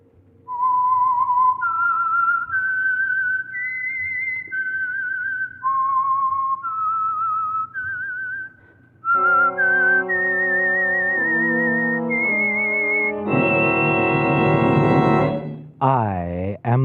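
Signature whistled tune of the Signal Oil radio program The Whistler, a slow, eerie solo melody of sustained whistled notes that builds into a fuller orchestral phrase and ends on a swelling chord.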